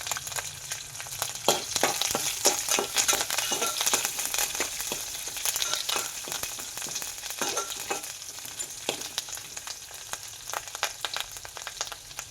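Onions, green chillies and curry leaves frying in hot oil for bagara rice, a dense crackling sizzle with frequent sharp pops and spatters, fairly close, with no talking.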